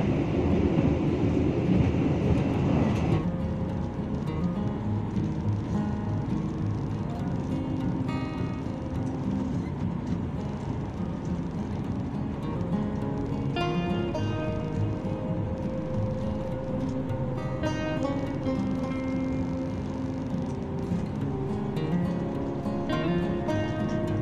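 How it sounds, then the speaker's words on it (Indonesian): KA Singasari passenger train pulling out of Kebumen station at night, a steady loud rumble of wheels and carriage noise that swells briefly at the start then rolls on continuously with rail clatter throughout. "KA Singasari kembali diberangkatkan dari stasiun Kebumen jam 23:28"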